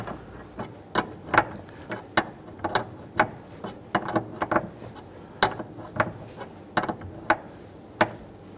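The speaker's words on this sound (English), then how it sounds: "we can go ahead and wrench them down." A ratchet wrench tightens brake hard lines on a 2011-2015 Kia Sorento during a master cylinder replacement, giving steady, evenly spaced clicking strokes that repeat close up with no talk.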